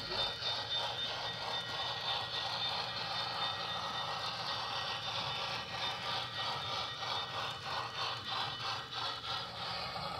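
An HO scale model train rolls along a large club layout, a faint continuous rumble with light rattling and clicking of wheels on track, steady throughout with no voices.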